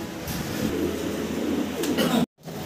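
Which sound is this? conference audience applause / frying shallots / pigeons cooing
pigeons cooing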